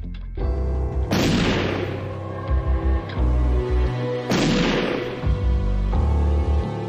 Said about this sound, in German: In der Nacht hört Jürgen Mertens 2 Schüsse.